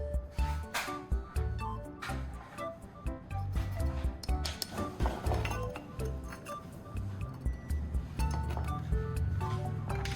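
Repaired ceramic pot glued with ceramic adhesive, super glue and cement being tapped, a quick run of sharp, bright clinks in uneven rhythm, close and crisp.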